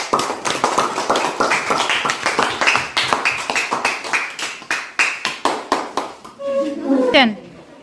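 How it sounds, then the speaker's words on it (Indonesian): A classroom group applauds after a group presentation, a quick rhythmic clapping of many hands that runs steadily then thins out, with children's voices chiming in near the end. "Jadi kita berikan aplaus"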